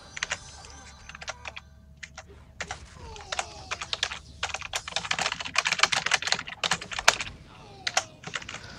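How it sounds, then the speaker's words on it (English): Computer keyboard typing comes in bursts of fast, close clicking that build to dense clattering, with faint talk in the background during a chatty livestream. "I'm typing in Twitch, right?"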